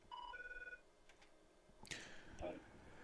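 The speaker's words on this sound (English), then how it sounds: "So the phone is ringing." A telephone rings faintly on a call-in comedy show, a short electronic trill followed by clicks and handling noise, quiet and brief.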